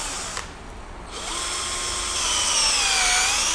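A power drill whines steadily after a brief pause, its motor pitch rising and settling into a continuous high hum, loud and close.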